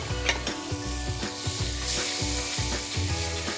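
Butter and olive oil sizzle in a very hot pan before popcorn, a close steady frying hiss under repeated scraping and stirring strokes of a utensil against the pan, with no talk.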